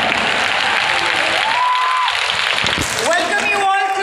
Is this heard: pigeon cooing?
no